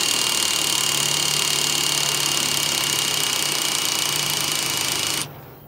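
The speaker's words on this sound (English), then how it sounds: "it drills through the wood" A drill with a winged bit bores through wood and into steel on an Elephant trailer repair, a loud, steady high-pitched whine and grinding that runs for about five seconds, then cuts off abruptly.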